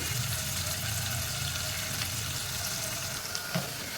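Onions frying in a pan with a continuous soft sizzle and hiss, steady and close, with a small clink near the end.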